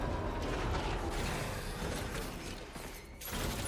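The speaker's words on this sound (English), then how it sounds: "I think it's just the squeak from the truck" A truck in the video game Death Stranding 2 gives off faint creaking, mechanical squeaks over a steady rumbling drive, with a brief dip in the noise near the end.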